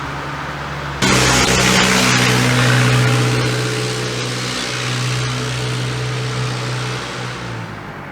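Cars pass loudly on a road beside an outdoor morning recording, with a steady roar of engine and tyre noise that surges suddenly after the first second, stays dense and close, then eases slightly.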